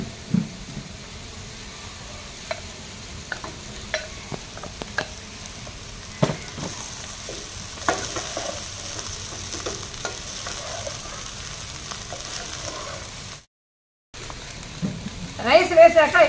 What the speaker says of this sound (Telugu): ఆ రైస్ని ఇప్పుడు ఇందులో కలుపుకుంటాం.